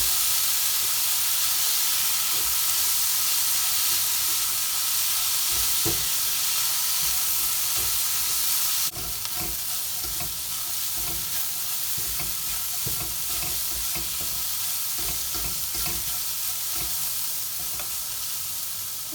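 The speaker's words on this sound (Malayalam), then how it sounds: "ഇത് നന്നായിട്ട് ഇളക്കി ഇതിലുള്ള ഈ വെള്ളമെല്ലാം ഒന്ന് വറ്റിച്ചെടുക്കണം." A tender jackfruit mixture for cutlets is stirred in a pan as its water cooks off, giving a steady hiss and sizzle with repeated scraping stir strokes throughout, no voices.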